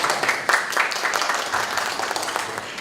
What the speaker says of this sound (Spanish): también pido un aplauso para él.